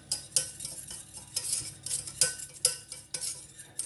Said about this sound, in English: Then I'm going to go in with a whisk and mix it all together.